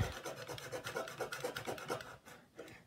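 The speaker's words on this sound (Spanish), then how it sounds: "Podemos usar un cúter que esté con bastante buen filo. Sin recargarlo mucho, nos vamos a darle una leve marcada. Y vamos a irle dando vueltas." A sharp craft knife lightly scores around a thin metal rod for a scale-model wheel modification, giving a faint, quick rhythmic rasping and scraping that repeats several times with no voices.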